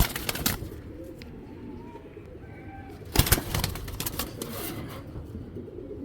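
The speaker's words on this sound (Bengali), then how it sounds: "এই যে এটাও মাদি কবুতর" Female racing pigeons, including a grizzle racer, in a loft: soft low cooing, with a sudden burst of wing flapping and rustling midway against a busy background.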